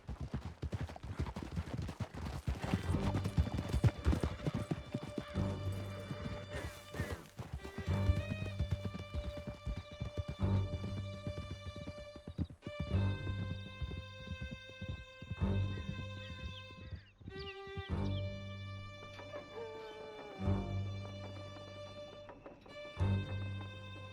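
Horse hoofbeats galloping in Red Dead Redemption 2, a steady rapid clatter of hooves that runs under loud orchestral music and game effects throughout.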